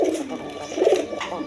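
Gorra pigeons, a yellow-coloured pair kept with their chicks, give soft close cooing calls in a short burst.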